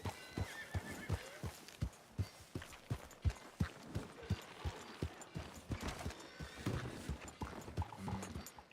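A horse whinnies while its hooves clip-clop in a steady walking rhythm, close and clear, with repeated hoofbeats throughout and no talking.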